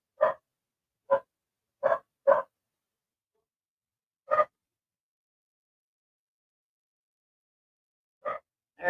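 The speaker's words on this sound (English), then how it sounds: "Let's see what the dog is having a fit about." A dog barks in short, sharp bursts, a quick cluster of four barks followed by a lone bark after a pause and two more near the end, with silence between.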